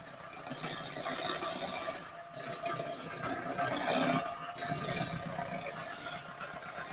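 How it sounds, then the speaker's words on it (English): A loud electric hand mixer whirs continuously while combining eggs and other flan ingredients in a home kitchen, a steady grinding motor drone with slight surges. "This is a very loud mixer."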